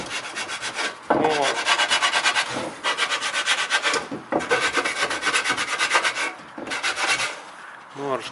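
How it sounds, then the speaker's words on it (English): Steady, close rasping scratches from roughening the surface of an automatic transmission part by hand, coming in long continuous strokes with brief pauses between passes. "in here I scratch this carefully"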